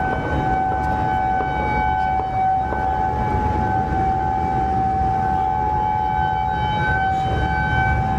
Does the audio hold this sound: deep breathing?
no